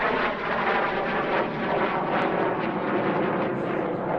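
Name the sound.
light combat aircraft flying at an air show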